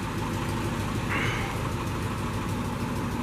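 A 1962 Nash Metropolitan car engine idles steadily at close range, a continuous low rumble with a brief higher whine near the middle and no talking.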